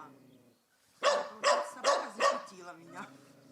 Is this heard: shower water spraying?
no